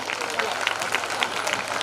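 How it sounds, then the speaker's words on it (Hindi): Applause from the crowd at a school annual function, a continuous, even patter of many clapping hands at moderate volume, with faint voices underneath. "पसंद आई हो तो तालियां तो बजाइए।"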